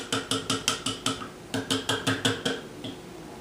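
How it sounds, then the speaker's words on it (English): Ice and frozen fruit rattle in a sealed Tribest personal blender cup as it is shaken, a rapid series of about a dozen sharp, even knocking bursts with brief gaps, close and fairly loud, with no voices. "And then we just shake it up. You can sort of hear if there's any lumps in there."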